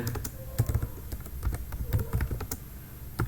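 Fingers type a search query on a computer keyboard with quick, light, irregular key clicks and taps, close and fairly quiet, with no talking.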